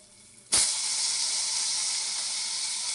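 Tomato dropped into hot tempering oil with curry leaves and dried chillies for sambar, bursting into a sudden loud hiss that holds as a steady sizzle, close and with no talk.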